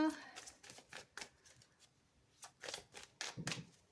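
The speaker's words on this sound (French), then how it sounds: "On va aller recouvrir les cartes" Tarot cards being handled and turned over during a reading, quiet papery flicks and slides in irregular bursts, with a faint voice speaking underneath.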